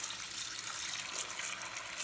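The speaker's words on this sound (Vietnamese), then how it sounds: "Xả nước cho nó ngập lên ha các bạn." Cold tap water runs steadily into a sink of vegetables for pickled carrot and kohlrabi, a continuous close hiss and splash with no talk.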